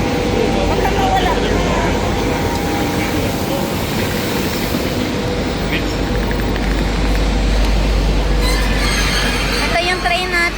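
A train at a station on a trip through Lyon, a loud steady rumble and hiss with faint squeals, heard under nearby voices talking throughout.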